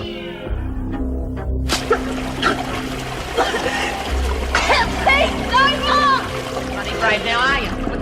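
Water splashing and sloshing as a woman is forcibly held down in water in a prison drama, with choppy bursts of splashes under frantic shouting and struggling voices throughout.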